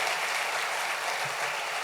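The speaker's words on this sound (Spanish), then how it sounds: "Dale un fuerte aplauso al Rey bendito." Church audience at an apostle's sermon breaking into sustained, dense applause, an even roar of many hands clapping with no pauses and no voices on top.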